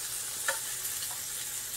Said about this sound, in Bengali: পেঁয়াজ কুচি আর রসুন কুচি দেব।